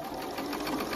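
A sewing machine runs a quarter-inch back stitch straight across a small zippered dumpling pouch, its rapid, steady needle chatter close and continuous throughout.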